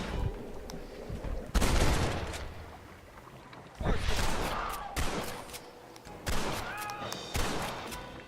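Gunfire in the Red Dead Redemption video game, several loud bursts of shots separated by quieter gaps, with game sound and a little background voice.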